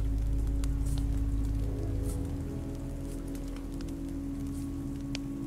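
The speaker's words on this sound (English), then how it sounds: "This rain will turn to sleet, then ice, then snow." Rain falling in The Walking Dead: Season Two video game, a soft steady patter with scattered drop ticks over a low droning hum, fairly faint and continuous.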